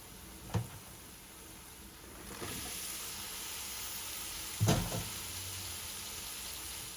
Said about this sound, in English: So I'm gonna add my gizzard now.